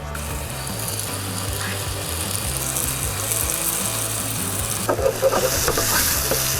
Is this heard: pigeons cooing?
no